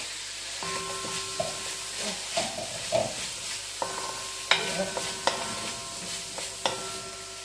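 Pumpkin goes into sautéed seasoning in a pan for Caribbean-style vegetable rice with okra, and is stirred with a utensil; a steady sizzle runs under scraping strokes and a few sharp clinks, close and moderately loud.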